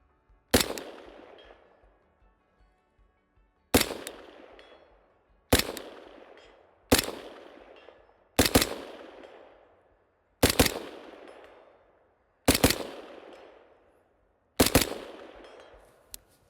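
Eight sharp rifle shots firing 55 grain ammunition, spaced irregularly a second or two apart, each loud crack trailing off in a short decaying echo, with quiet between them.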